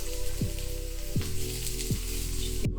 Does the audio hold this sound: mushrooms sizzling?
yes